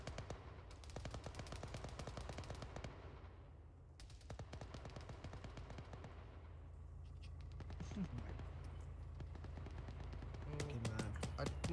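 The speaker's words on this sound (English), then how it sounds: "Oh my god, there's an HMG down there." A heavy machine gun in Arma 3 fires long rapid bursts of sharp, evenly spaced shots with brief pauses between volleys, loud and close, with voices talking over the gunfire toward the end.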